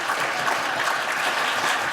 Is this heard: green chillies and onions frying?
no